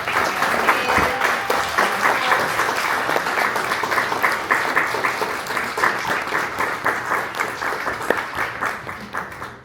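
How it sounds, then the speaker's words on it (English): Sustained audience applause at a Black labor and union event at UC Riverside, dense steady clapping from a full crowd holding loud and even for about ten seconds. "give him a round of applause"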